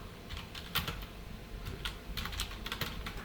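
JavaScript code being typed on a computer keyboard, with quick irregular bursts of close key clicks and short pauses between them.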